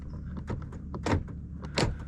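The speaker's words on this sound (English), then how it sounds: "Our door lock works now." Power door lock actuator on a 2008 Lexus LX570 (200 Series) cycling, giving two distinct mechanical thunks about two-thirds of a second apart, with faint clicks and rustling in between, close by and fairly quiet.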